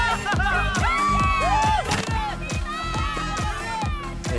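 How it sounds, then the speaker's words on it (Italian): An animated party crowd cheers and whoops for a girl who organized the evening, bright voices shouting excitedly over each other at close range in a lively, rising burst. "Un bel applauso per Marinette!"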